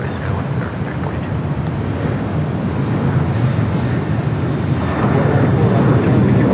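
A jet airliner taking off from runway 24 left at Los Angeles International Airport produces a steady, loud broadband roar that holds throughout and swells slightly toward the end, with no talk.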